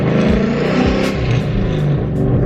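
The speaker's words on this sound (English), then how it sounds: "This car is too loud." BMW E36 M3 engine revving hard while drifting, loud and close, with rising and falling engine pitch and rhythmic throttle surges, no talk.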